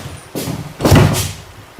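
Doors are pushed and banged on, with several heavy thuds and rattling bangs at irregular intervals, fairly close and loud.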